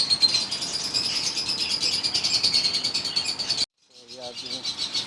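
Doves and lovebirds in breeding cages, including white-tail breeder pairs, fill the space with dense, continuous chirping and twittering, close and busy. The sound cuts out abruptly, then returns more sparsely with some softer calls.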